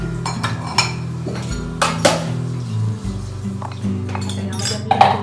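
Chocolate lava cake batter is mixed in a bowl, with repeated clinks and scrapes of a utensil against the bowl in an irregular rhythm, loud and close, with some faint background sound.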